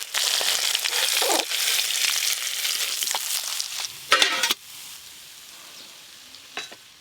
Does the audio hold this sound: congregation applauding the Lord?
no